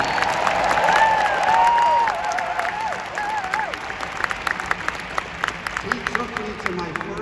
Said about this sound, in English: Give my dad a round of applause so he can hear it.